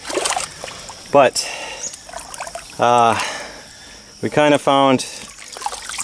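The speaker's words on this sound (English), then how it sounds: "we just increase the flow dramatically just by digging this out" Water flows through a freshly dug-out conduit in the dyke of a shrimp pond on a Philippine farm, a steady pouring trickle running throughout beneath someone talking in bursts.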